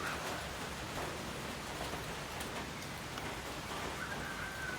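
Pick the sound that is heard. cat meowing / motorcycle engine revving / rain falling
rain falling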